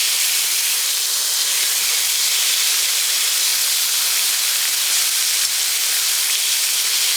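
Thinly sliced Korean BBQ beef bulgogi sizzles in a hot pan, a loud, steady, hissing crackle that holds without pause.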